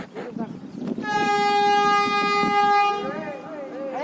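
A loud sustained train horn blares for about two seconds over rail noise, with voices talking before and after it, on a pilgrimage walk to Shirdi.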